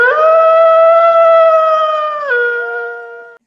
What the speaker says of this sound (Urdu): کچھ ہی دیر گزری ہوگی کہ جنگل میں ایک گیدڑ کی آواز سنائی دی